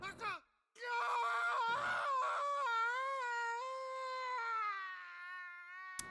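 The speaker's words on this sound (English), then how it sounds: "That is a blood-curdling scream." A long, blood-curdling human scream from a video game rises sharply, then holds a strained, wavering wail for about five seconds before fading, loud and close, with a short vocal sound just before it.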